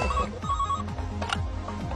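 Telephone bell ringing in a repeated electronic trill, loud and close, with no talk over it.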